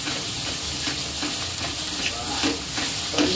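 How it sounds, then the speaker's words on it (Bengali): Pointed gourd and dried fish mash is stirred with salt in a hot pan, giving a continuous loud sizzle with soft, regular scrapes of the spatula running underneath. "সামান্য একটু লবণ দিয়ে ভালো করে নেড়ে দিচ্ছি।"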